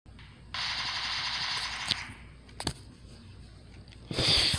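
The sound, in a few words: pistol gunfire in video game PUBG Mobile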